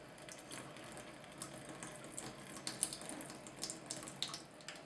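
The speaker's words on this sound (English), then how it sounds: "Just pour that most of the water off the top." Water trickling and splashing softly into a sink as it is poured off sprouting grains, a continuous faint pour with small bright drips, no voices.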